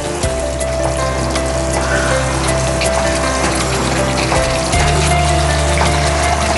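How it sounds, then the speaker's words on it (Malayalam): Tamarind chicken curry stirred in a pan as the oil separates, a steady bubbling and sizzling simmer with soft scraping of the spoon, loud and close, with no talk. "ഇനി ഒന്ന് ഇളക്കാം."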